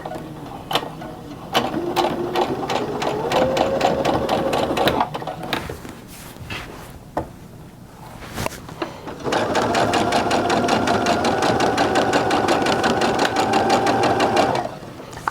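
A sewing machine stitches a patchwork pillow in two long, rapid runs of even, whirring stitching separated by a short pause with light handling clicks.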